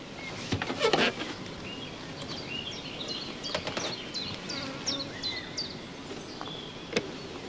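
Honeybees hum around an opened hive as frames are lifted out for inspection, a soft steady buzz with a few sharper close passes and faint bird chirps in the background.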